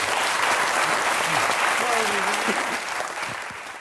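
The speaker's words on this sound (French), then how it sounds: "on l'applaudit" Studio audience applauding a guest on a French talk show, a dense steady wash of clapping throughout that tapers slightly toward the end, with faint voices mixed in underneath.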